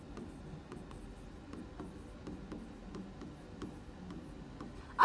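Writing on a board during a Class 10 physics lesson on the magnetic effect of electric current, a quiet continuous scratching with small rhythmic taps, close and faint, no talk.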